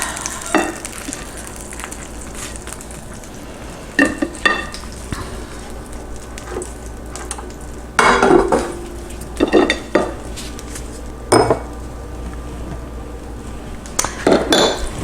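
Cheesy chicken quesadilla folded in a pan and slid out, with soft sizzling under sharp spatula scrapes and clanks of metal on the pan in several bursts.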